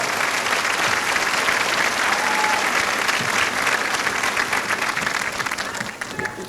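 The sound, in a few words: audience applause at a college commencement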